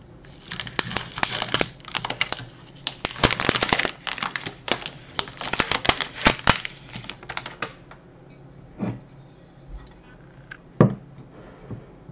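Crinkling and tearing of the wrapper on a Milka strawberry-cream chocolate bar, a dense run of crackles and rustles for several seconds, then quieter scattered handling sounds.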